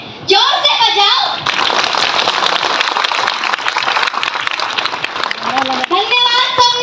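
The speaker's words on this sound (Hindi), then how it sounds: "आयोजक टीम के लिए भी तालियां कम ही बज रही है, जोर से बजाओ" A loud, dense burst of clapping from a crowd gathering at Deekshabhoomi in Nagpur for the organizing team, running for several seconds, with voices speaking at the start and again as it ends.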